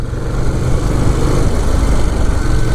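A 2018 Ducati Monster 821 motorcycle runs in sport mode in third gear on an English country road, its engine giving a steady, loud rumble mixed with rushing wind noise.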